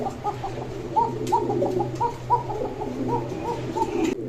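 A male Boro Payra pigeon from Gopalganj coos in a rhythmic, repeating series of throaty calls close by, over a low steady hum with no talking.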